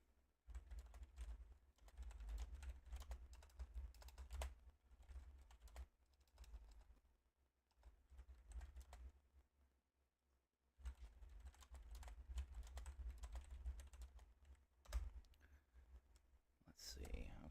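Typing on a computer keyboard, a steady patter of key clicks that runs in bursts with a short pause midway, close and moderately loud.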